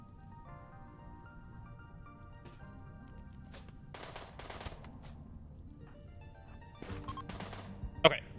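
Gunfire in a colony-building video game plays as scattered bursts of sharp cracks, faint against quiet background music, with a louder cluster near the end.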